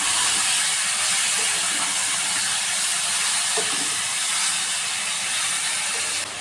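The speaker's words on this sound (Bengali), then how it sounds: "মাটনটাকে পুরোপুরি দিয়ে শুধু যে কোনো রকম মশলা ছাড়াই মাটনটাকে খুব ভালোভাবে কষতে থাকবো" Mutton fries in hot oil with whole spices and bay leaves, giving a loud, constant, close-up hiss of sizzling with no break.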